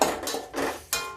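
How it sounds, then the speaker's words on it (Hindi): Carrot pickle is stirred in a pot, making three short scraping swishes in quick succession, close and moderately loud with no talking. "अब इस अचार को चलाते हैं"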